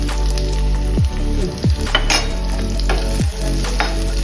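Cut dried red chillies and onions fry in hot oil for a Kerala mathanga chena curry, giving a loud continuous sizzle. Several scraping stirs of a spoon against the pan cut through it.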